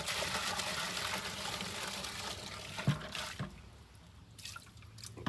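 The rest of the gasoline trap dip pours into a bucket in a steady gushing stream that thins to a trickle and a few drips, close and quiet.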